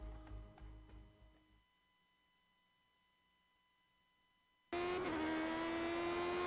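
A Lotus 79 racing car engine on a lap of Snetterton in a racing game: a rumbling engine fades into a long near-silence, then a loud, steady, high-pitched engine note cuts in abruptly and holds to the end.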